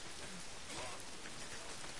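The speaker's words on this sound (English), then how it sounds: "It's the goddamn rain." Steady, dense rain pouring in a video game set in New South Wales, a continuous even hiss of drops on surfaces with no breaks and no voices.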